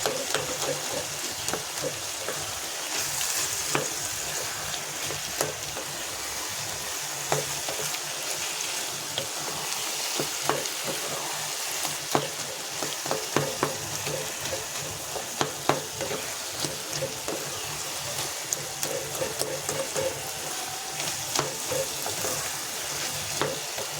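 Ash gourd sizzles and crackles in a hot pan while being stirred with the lid off and the gas turned up, a steady close frying hiss broken by brief scraping and clattering stirs.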